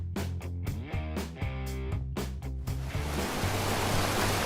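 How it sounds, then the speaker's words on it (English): The Vinnufossen waterfall in Norway, Europe's highest, with four falls totalling 2,822 feet, gives a steady broadband roar that rises in the last seconds after a stretch of music. "In 6th place is the highest waterfall in Europe, the Vinnufossen."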